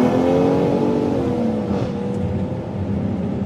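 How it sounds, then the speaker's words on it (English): A BMW X3 M or X4 M straight-six engine with sport exhaust hums loudly and smoothly, its pitch rising then easing off, heard close and alone without talk. "It still sounds like a BMW straight six"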